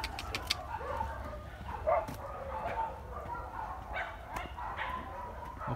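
Several dogs bark at an animal shelter in China. Scattered, fairly distant woofs and yips sound over a faint outdoor background, with a few bird calls.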